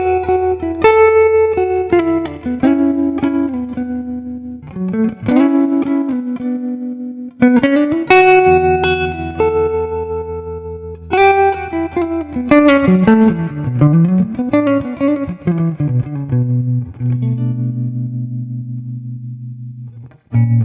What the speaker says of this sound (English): let me just add some tremolo and see how that sounds